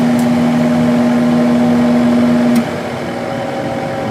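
A window air conditioner's big motor and fan running with a steady, loud hum and a strong constant tone that drops off partway, leaving a lower, smoother whir.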